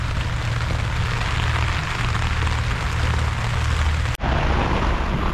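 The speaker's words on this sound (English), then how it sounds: "the rain's here if you can't hear it." Rain falls steadily during a windy stealth camp, a dense even hiss of drops with low rumble underneath, close and continuous, broken by a brief sharp dropout near the end.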